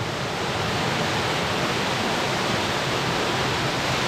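Steady roar of a waterfall pouring into a canyon pool, a dense, unbroken rush of falling water heard close and loud throughout.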